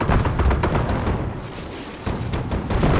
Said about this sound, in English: Auto cannons, 76 millimeters, going off, and here comes in the Jagdpanther.